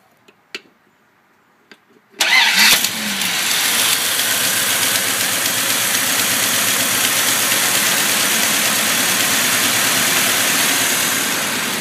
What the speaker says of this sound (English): we're just going to start it again, let it take off